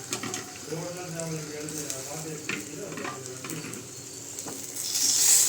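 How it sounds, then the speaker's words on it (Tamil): Half a kilogram of cleaned prawns frying in a pan, with a steady sizzle and some stirring, under a voice speaking for most of the time and a louder hiss near the end. "நல்லா எறா ஃப்ரை பண்ணணும்."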